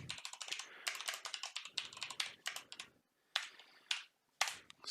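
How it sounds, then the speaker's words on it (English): Rapid typing on a computer keyboard, close and clear, in dense bursts of keystrokes with two short pauses before a few final isolated clicks. "So I need to type that in exactly as it is here, back in Unreal."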